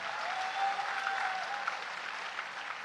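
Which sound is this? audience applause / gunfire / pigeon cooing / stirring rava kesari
audience applause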